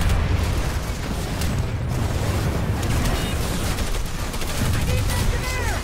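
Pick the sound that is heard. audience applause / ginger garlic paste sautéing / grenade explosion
grenade explosion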